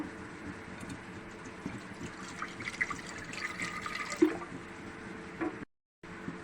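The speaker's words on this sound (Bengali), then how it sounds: "এখন শিরা তৈরি করার জন্য পানি দিয়ে দেবো।" Water pours and splashes fairly quietly into a cooking pan for sugar syrup, with a few clinks and small knocks, then a brief gap of silence near the end.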